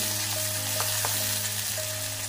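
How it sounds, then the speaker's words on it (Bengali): A medium-sized chopped onion fries in hot oil, giving a loud, continuous sizzle with occasional stirring clicks close by. "পেঁয়াজটা একটু ভেজে নেব।"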